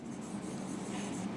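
Writing on a board during a general-knowledge class lesson, a close, continuous scratching stroke with no talking over it.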